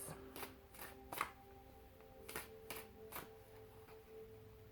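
Tarot cards being shuffled by hand, heard as a series of quick, crisp riffling bursts at an uneven rhythm, fairly quiet and close, with no talking.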